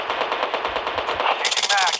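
Rapid automatic gunfire in a video game rattles in a fast burst, loud and close, with game sound effects overlapping near the end.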